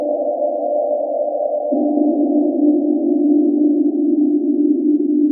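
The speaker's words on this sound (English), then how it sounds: "this is just an ambient sound that I've recorded at a shoe factory" A steady, droning machine hum in a shoe factory with a low tonal whine, continuous and unchanging, shifting slightly lower in pitch partway through, with no voices.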